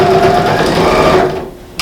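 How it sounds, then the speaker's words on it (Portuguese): A sewing machine stitches thick pleated fabric for a school pencil case, a steady close mechanical whir of rapid needle strokes that slows and stops near the end, followed by a brief click. "vamos costurar com um pouquinho mais de cuidado"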